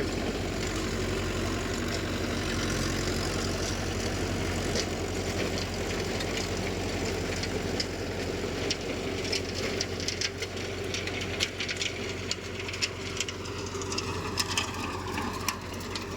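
A Mahindra Yuvo Tech+ 585 tractor works a rotavator through dry field soil, its engine droning steadily at close range with intermittent clattering and ticking from the implement.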